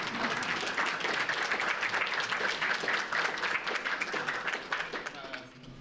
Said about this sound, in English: And can I just clap for you?